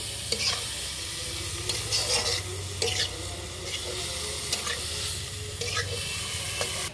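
Chunks of ash gourd (chal kumro) and shrimp are stirred with spices in a frying pan, giving a soft, continuous sizzle. Repeated scraping strokes of a spatula come close and at an irregular pace, with no speech.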